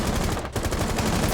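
Rapid gunfire in Rainbow Six Siege, a dense, loud burst of repeated shots that fills the whole moment without pause.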